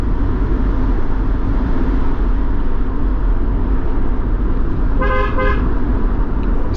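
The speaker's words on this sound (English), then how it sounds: "Sometimes when I have to blow on the horn so other road users can know" A car horn sounds on a rural road through banana-growing hills near Litchfield in Trelawny, Jamaica: two short toots near the end, heard over the constant loud engine and road noise of the moving car.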